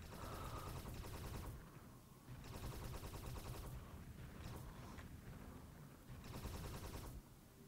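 Enemy ships in the space game Space Haven fire weapons in loud, dense bursts of rapid gunfire, three long volleys separated by short pauses, with no talking.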